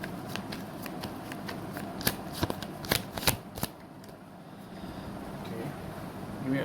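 Tarot cards are shuffled close by, with soft rustling and a quick run of sharp riffling snaps in the middle before the sound settles into quieter handling.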